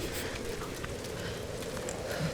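Heavy rain in the video game Tomb Raider, a steady hiss of rainfall on surfaces at moderate loudness with a low rumbling bed underneath, continuous throughout.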